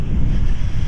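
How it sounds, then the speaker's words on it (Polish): Strong wind buffeting the microphone on a beach in Aberdeen, Scotland, a loud continuous low rumble with possible surf mixed in, no speech. "A tu wieje."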